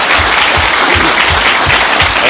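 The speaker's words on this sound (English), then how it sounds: "Let's hear it for Guy Valvano." Steady, dense applause from a banquet crowd honoring a retiree from Monticello Raceway, sustained and even throughout with no voices rising above it.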